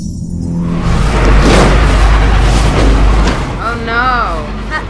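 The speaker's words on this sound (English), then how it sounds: "It's gonna explode." A loud, rumbling explosion in the video game Beyond: Two Souls, a heavy low boom that swells and roars for a few seconds before fading, with people talking over it.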